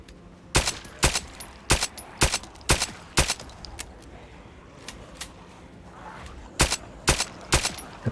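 Pistol shots ring out in the video game Project Zomboid, sharp reports spaced in uneven clusters, several in quick succession, then a pause before another volley.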